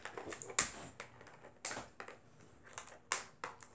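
Scissors snip through plastic packaging on a Ben 10 Jet Ray toy, giving three sharp, separate cuts spaced about a second apart, close up, with faint rustling of the package between them.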